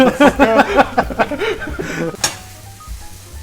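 Spinach stir-fried with dried chilies in a pan sizzles and hisses while a person talks over it, with a bright clink about two seconds in before the frying settles into a quieter hiss.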